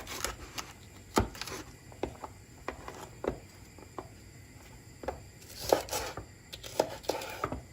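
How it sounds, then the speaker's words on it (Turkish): Irregular knife taps on a cutting board, quick bursts of chopping village peppers with short pauses, fairly close and moderately quiet. "Ben şimdi sebzelerimi doğrayacağım."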